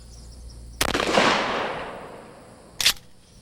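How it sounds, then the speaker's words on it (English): A shotgun fires number 9 birdshot at soft body armor on a mannequin, one loud sharp blast followed by a long fading decay, then a second short sharp impact-like crack about two seconds later. "We try it first with number 9 birdshot."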